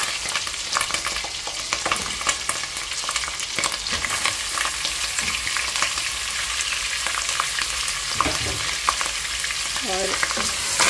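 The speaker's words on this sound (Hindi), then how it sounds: "अब उसी ऑयल में मैंने लहसुन अदरक का पेस्ट शामिल किया है और यहाँ पे मैं शामिल कर रही हूँ चिकन।" Chicken sizzles and fries in hot oil with garlic ginger paste, a steady loud crackle with occasional stirring and scraping in the pan, no voices over it.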